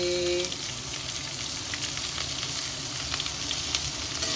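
Onions frying in oil in a pan for an eggplant gravy, a steady dense sizzle with faint crackles throughout, close and fairly loud with no talking.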